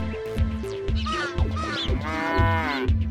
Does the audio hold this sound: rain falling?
no